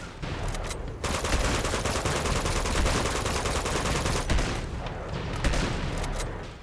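Heavy, continuous gunfire fills a fight in Uncharted 2: Among Thieves, with dense bursts and single shots running almost without a break, loud and close, and briefly dropping back near the start.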